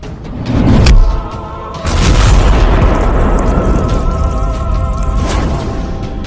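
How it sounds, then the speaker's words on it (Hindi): A cartoon car is kicked away and bursts into flames. A heavy boom hits early, then after a short break a loud, sustained roar and rumble of fire and debris fills the rest of the clip. "तुंग तुंग सहूर कार के पास आ चुका है और फिर वो कार पर एक जोरदार लात मारता है और उसे दूर फेंक देता है, जिसके कारण कार में आग लग जाती है"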